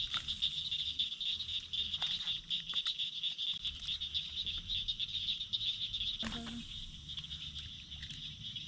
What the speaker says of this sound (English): We keep hearing frogs doing their little wah every time they jump in the water